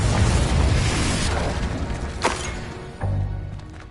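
A Confringo blasting spell goes off during Hogwarts Legacy combat, opening with a loud rumbling explosion that slowly fades, followed by sharp nearby bursts and another heavy thump near the end.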